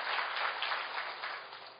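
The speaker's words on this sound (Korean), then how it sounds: "박수 한번 주시겠어요?" An audience at a company presentation gives steady, dense applause, a continuous wash of many hands clapping at moderate distance without any talk.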